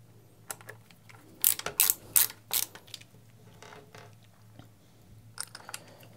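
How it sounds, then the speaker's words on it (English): Sheet metal screws being turned into a RAM Roto View adapter plate, a close run of small clicking and ratcheting grinds in short bursts, with louder scraping clicks near the start and quieter ticks later. "drop in those sheet metal screws and tighten"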